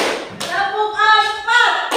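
A group plays a counted hand-clapping game at a classroom icebreaker. A few dull, thudding claps fall between the phrases of a loud voice chanting the count.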